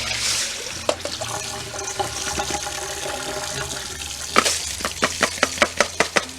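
Rice is swished and rinsed by hand in a bowl of water, with sloshing and trickling at first and then a run of sharp, rhythmic splashes close by.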